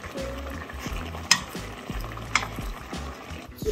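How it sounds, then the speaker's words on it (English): Peanut butter soup with tomato paste, tomatoes and carrots bubbles and sizzles in a pot, with a steady close simmer, a few sharp clinks and scraping stirs, and no voices. "See how colorful it is. It's boiling."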